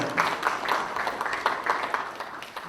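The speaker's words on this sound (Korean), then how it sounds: "수고해주신 황정선 시장께 다시 한번 박수 부탁드리겠습니다" An audience at a Democratic Party workshop for local government heads applauds a mayor, a steady, moderately quiet wash of many hands clapping with slight swells and no talking.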